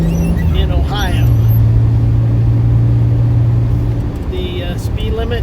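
A 1985 Pontiac Fiero GT drives a wet Kentucky backroad, its steady mid-pitched engine hum and tire noise loud and close throughout, with a brief tonal change partway through.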